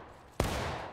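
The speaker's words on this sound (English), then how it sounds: "Keep those shots going, keep those shots going" A musket volley rings out in a line battle video game set at Bloody Lane, a sudden loud crack of massed fire at the midpoint that leaves a sustained rolling rumble and crackle afterward.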